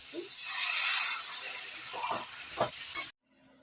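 Water added to a frying bottle gourd and potato curry, a loud sizzling hiss with some stirring knocks that cuts off abruptly near the end.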